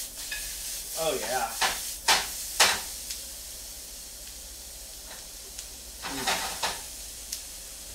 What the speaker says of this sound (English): See how these babies are sauteing up?